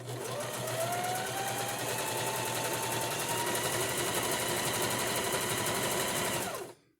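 A sewing machine hemming knit fabric runs in one continuous, steady whirring stretch at moderate level for almost seven seconds, then stops abruptly.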